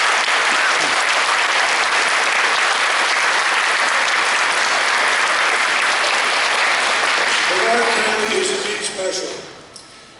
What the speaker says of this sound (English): A round of applause for our first responders of Brevard County.